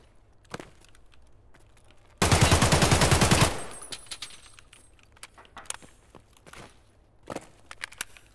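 A loud burst of automatic gunfire rips out in a raid video game, about a second and a half of rapid shots, surrounded by quieter footsteps, clicks and distant shots.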